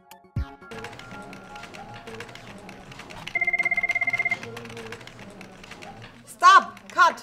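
An office desk telephone gives one trilling ring lasting about a second, cutting clearly through steady background music, with a couple of sharp knocks afterward.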